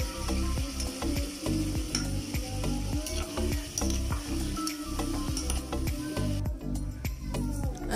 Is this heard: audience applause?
no